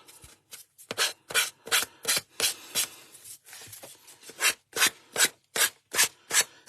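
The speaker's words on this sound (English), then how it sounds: "I'm going to start filing this off now. It's not quite dry, but it'll be fine." Someone uses the finer edge of a file on the damp edge of an MDF art journal, making steady, evenly spaced back-and-forth rasping strokes, close and clear with no talking.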